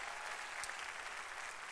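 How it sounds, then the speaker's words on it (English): A church congregation clapping hands throughout the building during an evangelist's service, a faint, steady wash of many hands heard from a distance. "Give the Lord God another hand clap all through the building again."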